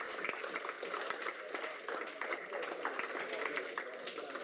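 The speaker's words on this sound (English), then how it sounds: "Please, big round of applause for them." Audience applause at an eight-ball pool final, a sustained round of many hands clapping at moderate distance, fairly even throughout.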